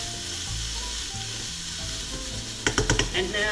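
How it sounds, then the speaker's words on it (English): Tomatoes and onions sizzle steadily in a hot pan, then a run of four or five quick scraping stirs sounds close and loud near the end. "Stir it."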